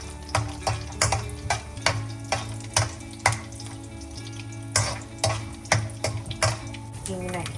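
Peanuts roast in a small amount of oil with tempering. A low sizzle runs under a regular series of sharp scraping stirs or clicks from a utensil in the pan, close and fairly even in rhythm.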